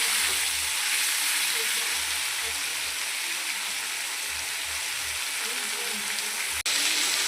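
Vegetables frying in a pan, a loud, close, continuous sizzle with faint low rumbling stirring noises underneath and one brief click near the end, no talk.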